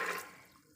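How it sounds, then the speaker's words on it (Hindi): Water pouring into a pressure cooker holding peeled potatoes and peas, a brief splashing gush that is loudest at the start and then fades quickly. "और अब हम इसमें पानी डालेंगे।"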